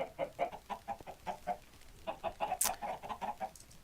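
Video game chickens cluck in a rapid, rhythmic series of short bursts, fairly close and clear, with a brief sharp squawk midway.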